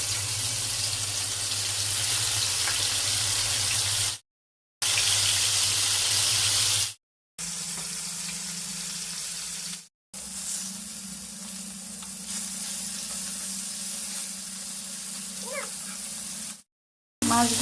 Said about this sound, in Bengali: এখন গরম তেলে আমি মাছগুলো দিয়ে দিব।